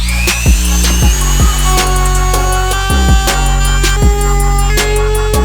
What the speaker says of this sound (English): So I went ahead and just used a Dremel.